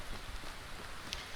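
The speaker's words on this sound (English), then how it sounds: "But I guess this is still too early in the morning, and it's raining." Steady rain falls in the Skyrim video game on a dark early morning, a dense even hiss of drops with a brief sharper patter near the end, no talk.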